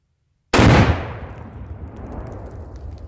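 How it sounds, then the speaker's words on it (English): A single loud blast from a .30-06 M1 Garand rifle shot setting off binary explosives under hard drives, a sudden heavy boom after silence that decays into a long rumbling, crackling tail. "I'm going to shoot it with my 30-06 here, my M1 Grand, and let's see how high they fly."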